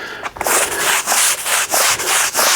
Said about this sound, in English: I'll go over it again with a scrubbing brush